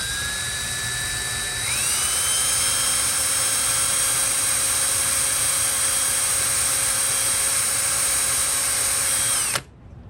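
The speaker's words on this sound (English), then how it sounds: "Hopefully this plastic's a little harder to screw into. Let's not drill into my hands." A power drill whines steadily as it bores into plastic while a vintage Motorcraft shop clock is restored, its pitch rising as the motor speeds up. The loud, continuous whir lasts several seconds and cuts off abruptly near the end, with no talking.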